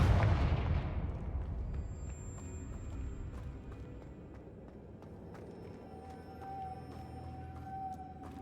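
A spell in the video game Hogwarts Legacy bursts into a loud explosive blast at the start, then a long rumbling decay. Sharp game impacts, a faint ringing tone and other scattered effects follow.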